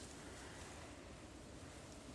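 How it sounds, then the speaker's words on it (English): A brief, unbroken gust of stormy game wind in a winter setting, a dense rushing roar held at an even level, with no voices. "Fairly stormy, windy day."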